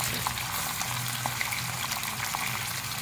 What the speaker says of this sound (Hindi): चिकन को हम जिंजर के साथ फ्राई करेंगे।